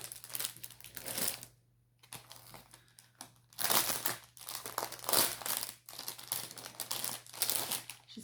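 Crinkly plastic packaging of a clothing item from an online order being opened, with bursts of crackling and rustling separated by brief pauses, close and fairly loud.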